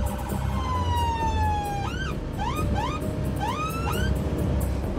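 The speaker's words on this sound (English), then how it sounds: "Love these new sirens." An ambulance siren wails loudly and close while driving at speed to a patient, first a long descending tone, then repeated rising whoops over steady engine and road rumble.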